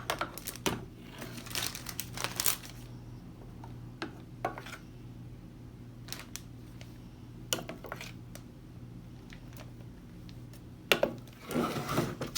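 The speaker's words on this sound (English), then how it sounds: "I'm going to take and fill my bag" Raw dog food for huskies being packed into a plastic bag, crinkling plastic rustles and soft thuds coming in scattered bursts, with a denser burst of crumpling at the close.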